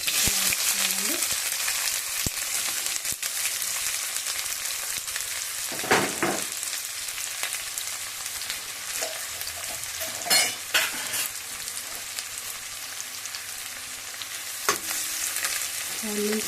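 Onions frying in hot oil in a pan for a fish curry, a steady close sizzle running throughout with occasional scraping stirs of a spatula.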